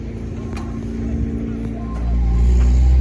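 An affordable racecar's engine runs nearby with a deep, steady rumble that swells louder and lower toward the end, with faint clicks over it.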